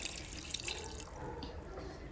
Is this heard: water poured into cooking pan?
yes